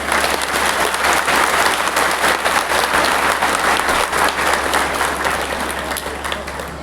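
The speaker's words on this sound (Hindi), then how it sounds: "धन्यवाद ज्ञापित करेंगे, ताली बजाकर सभी लोग" A crowd at a satsang devotional gathering marking Kabir's appearance festival breaks into steady, dense applause. Many hands clap together throughout, loud and sustained, easing off slightly toward the close.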